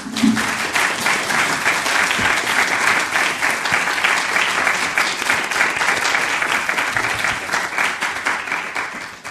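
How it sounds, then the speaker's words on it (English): A conference audience at a panel discussion on the future of science journalism gives the panelists a steady, loud round of applause lasting several seconds, with dense clapping throughout. "So give them a round of applause, please."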